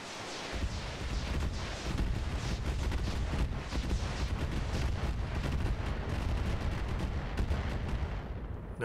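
Indirect-fire missiles launch in the mech strategy game Roguetech as a dense, continuous roar of rumbling blasts and booms that stays loud and unbroken throughout.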